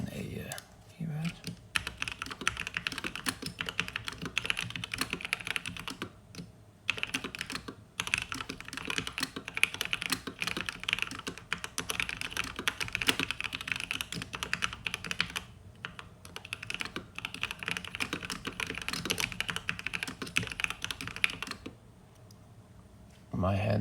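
Fast continuous typing on a modded Corsair K70 mechanical keyboard set low on a table, dense clacky keystrokes close to the mic with a few brief pauses, quiet room tone between bursts.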